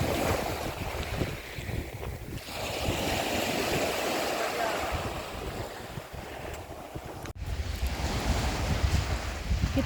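Open sea at evening heard from a boat, a continuous wash of waves and rushing water with heavy wind buffeting the microphone, loud and steady throughout with a brief dip near the end.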